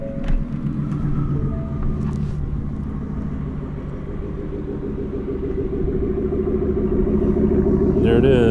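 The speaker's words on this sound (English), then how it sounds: "this truck runs and drives like it came from Ford with the V8." A Hennessey VelociRaptor pickup's V8 engine idles close by, a deep, steady rumble, low and throaty, swelling slightly louder toward the end.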